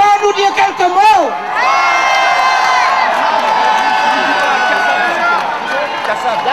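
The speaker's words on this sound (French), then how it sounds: "Il y en a qui applaudissent au fond" A theatre audience at the Olympia in Paris roars and cheers, a dense wall of many voices with rising whoops early on, then a sustained loud crowd din that carries steadily to the end.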